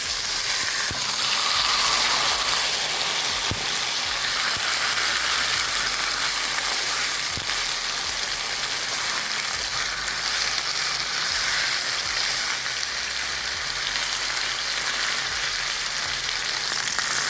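Large chunk of ossobuco searing in a pan, a dense, steady sizzle and crackle of frying meat that stays loud and close throughout, with occasional faint scrapes.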